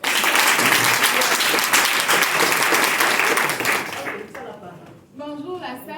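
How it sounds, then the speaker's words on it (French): A hall audience at a women's business workshop in Togo breaks into loud, dense applause that fades after about four seconds, and then a voice begins speaking into the room. "Il faut applaudir pour ça."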